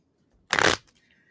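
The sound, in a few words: shuffling a deck of cards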